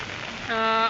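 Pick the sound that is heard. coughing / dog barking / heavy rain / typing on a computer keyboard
heavy rain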